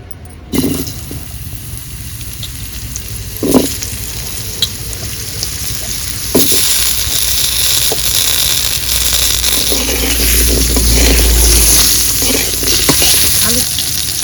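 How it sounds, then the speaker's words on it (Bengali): Potato slices fry in hot oil with a loud, steady sizzle close to the pan, broken early by a few knocks and scrapes of stirring, the hiss swelling fuller toward the end. "তাই আমি আলু পাটা ভেজে নেব"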